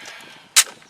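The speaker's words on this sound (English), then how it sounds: "The first shots of the Rowland. It's 460." A single sharp gunshot from a .460 Rowland pistol firing a 230-grain hollow point duty round, one loud close crack that stands alone against quiet background noise.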